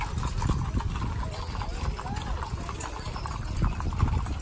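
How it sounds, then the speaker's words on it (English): Steady clip-clop of horse and mule hooves close by at a mule day event, a busy overlapping rhythm of several animals walking, with faint voices in the background. "That's a horse."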